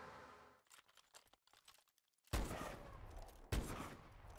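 Video game gunfire at a firing range, rapid bursts of shots: a string of quick taps early, then two loud, sharp volleys that ring out and decay, with no talking.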